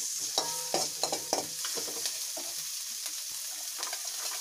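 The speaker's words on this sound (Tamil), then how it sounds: "அது கோல்டன் ப்ரௌன் கலரில் வர வரைக்கும் நல்லா வதக்க வேண்டியதான் நல்லா வதக்கிடுவோம்" Potato, chilli and onion sauté in a pan for aloo paratha. A spoon stirs repeatedly over a continuous frying sizzle, with the scraping strokes loudest early on, then a steady hiss. No speech.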